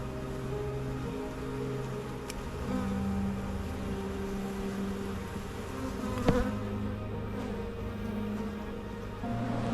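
Honey bees buzz continuously during a mid-May hive inspection, a dense, steady drone close by with no talk over it.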